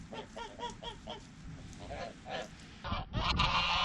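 Geese honk in a steady series of repeated calls at moderate distance, ending with a louder, noisier burst of movement and close calls.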